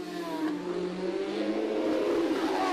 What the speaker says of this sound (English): Now, Davey Todd on a superbike, the Burroughs engineering machine that Mike Brown has ridden this season.